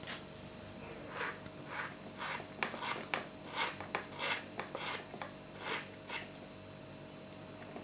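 Edges of two aluminium bars are being cleaned up with a file, giving a series of short rasping strokes in an irregular rhythm, close and fairly quiet, with no talking.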